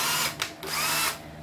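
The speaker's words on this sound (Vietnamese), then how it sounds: "Con này anh em làm sử dụng gia đình thì ngon, có búa hỗ trợ khoan tường, bắn vít cũng được, khoan cũng được." A cordless three-function hammer drill, a secondhand Japanese battery model with hammer action for drilling walls and driving screws, whirs loudly and close with brief dips in pitch as the trigger eases, no talking over it.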